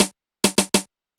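Snare drum sample from a 90s house kit, bright noisy cracks struck five times in a loose pattern with short tails, loud and alone without talking.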